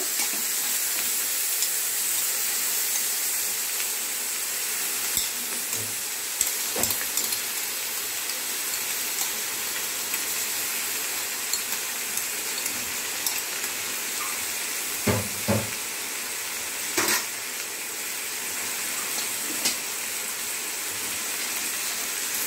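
Yogurt stirred into a chicken yakhni pulao masala in a pan, giving a steady soft hiss of cooking broken by scattered light clicks and scrapes of the spoon against the pot.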